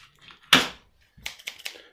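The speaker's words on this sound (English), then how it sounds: "Yeah, I'm using scissors." Scissors cut into a LiFePO4 battery pouch cell, making one sharp, close crunching snip and then a few lighter clicking cuts.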